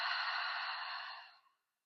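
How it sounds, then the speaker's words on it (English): A single long, steady exhale during a diaphragm and oblique core-breathing exercise, a close breathy rush that holds for over a second, then tapers off into silence. "and then we're gonna exhale."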